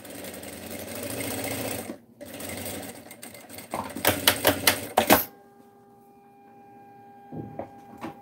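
A sewing machine stitches a backstitch while sewing a fabric cutlery holder, with a quick run of loud, rapid needle clatter after steadier motor whirring, then falling quiet.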